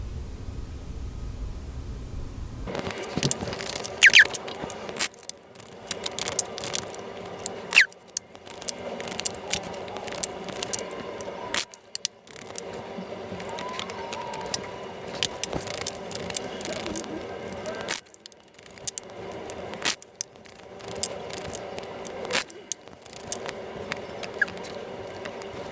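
Tarot cards are shuffled by hand in a long, continuous run of soft riffling, patting and shuffling that keeps pausing and restarting, close and fairly quiet, with no talking.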